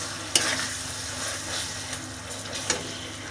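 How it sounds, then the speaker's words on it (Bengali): Onions frying in a pan with ginger and garlic, browning for a spicy chicken bhuna: a steady close sizzle with a few sharp scrapes of stirring, and no talk. "এটাকে সুন্দর করে এই পেঁয়াজের সাথে ভাজবো, যেন আদা রসুনের কাঁচা গন্ধটা না পায়"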